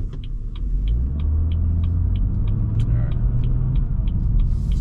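BMW B58 engine with an MHD Stage 1 tune running in Sport Plus mode, giving a steady low, rumbling drone with a rising tone and a sequence of evenly spaced ticking clicks over it.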